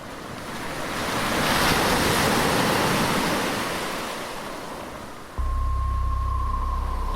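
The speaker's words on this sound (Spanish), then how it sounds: "el sonido del océano me resulta insoportable dentro de casa" Ocean surf and wind fill a dark horror audio drama, waves surging in a steady roaring wash that swells and eases, then a low rumbling tone and a sustained hum join abruptly near the end.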